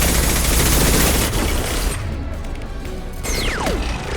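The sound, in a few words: turret firing in video game Mass Effect 2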